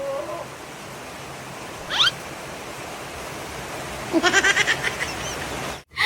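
Goat bleats at a farm feeding, a short wavering call followed by a louder run of quavering bleats, close and alone over steady background hiss.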